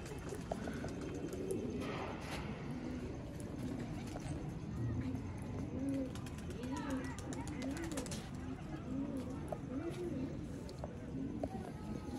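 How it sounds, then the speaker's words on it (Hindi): Master Abdullah green-pearled pigeons, a Ferozpuri breed, coo repeatedly in soft throaty rolls beneath steady chirping birds, while someone talks nearby throughout. "ये मास्टर अब्दुल्ला वाले सब्ज़ मोतियों वाले कबूतर आप इनको बोलेंगे"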